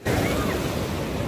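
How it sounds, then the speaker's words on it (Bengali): Sea waves at Mohona beach in Digha, a steady broadband wash of surf that rises quickly and holds loud and even for its short length, with no voices. "ঢেউটা হচ্ছে দেখো"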